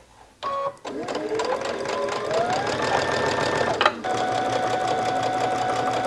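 A sewing machine stitches a seam on a stretch headband, running in a fast, steady mechanical whir after a short start, pausing briefly, then carrying on close and clear.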